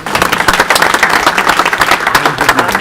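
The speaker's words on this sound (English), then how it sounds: "let's give them a round of applause" Applause for panel members at a discussion forum, a loud, close burst of dense clapping from an audience that continues evenly through the whole short stretch.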